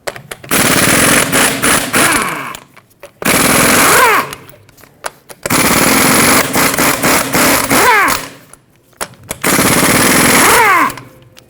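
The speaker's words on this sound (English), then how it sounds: "that exposes your 8 21mm headed lug nuts, so let's take those off." Impact wrench removing the eight 21mm lug nuts from a rear wheel of a 2011-2016 Ford F-350, four loud, rattling bursts of hammering about two seconds each, separated by short pauses, close up with no talking.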